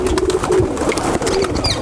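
Cooing from a pair of high flyer pigeons, one male and one female, held up close; a steady low murmur of coos runs throughout with faint chirps on top.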